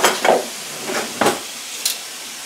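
Steak pieces browning in a frying pan for a steak pie: a few distinct bursts of sizzle as pieces are moved and turned, over a faint background hiss, with no talking.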